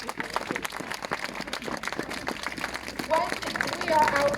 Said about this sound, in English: give yourselves a massive and warm round of applause